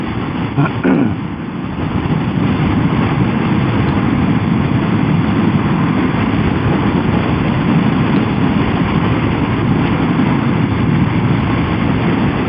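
A motorcycle rides through autumn weather, its engine droning steadily and loudly at close range with constant road and wind rumble and no talking.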